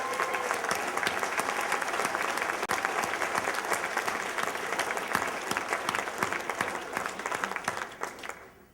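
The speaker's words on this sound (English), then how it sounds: "We owe Julia a huge round of applause." Sustained applause from a crowd, dense clapping that holds steady and then tapers off at the end.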